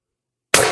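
A single sharp shot from a Hot Rod Beeman air rifle running 1100 psi HPA and firing a 12.7 mm, 8.3 gram steel ball bearing, a loud close crack after silence, then a brief decaying ring.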